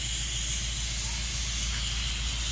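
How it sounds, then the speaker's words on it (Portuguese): A pressure cooker holding feijoada beans hisses steadily as it comes up to pressure, a constant close steam rush with no voices. "E a panela já pegou a pressão."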